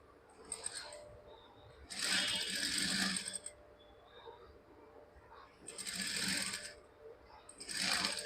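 Short bursts of a sewing machine stitching a school uniform chudithar neckline give a rattling, ratchet-like clatter. Four runs of one to two seconds each are separated by quieter pauses, heard up close.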